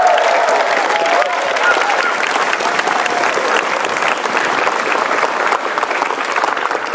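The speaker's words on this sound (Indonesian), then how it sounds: "Saja beri tepuk tangan yang meriah buat Bapak Basuki Cahayapurnama." Loud, dense applause for Basuki Cahaya Purnama from a packed audience at a stand-up comedy show, steady clapping with some cheering mixed in, lasting throughout.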